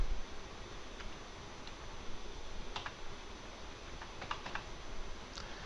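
Computer keyboard typing at a desk, a quiet run of soft, irregular key clicks spread across the stretch with no talking, faint against a low room hum.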